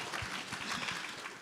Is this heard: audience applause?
yes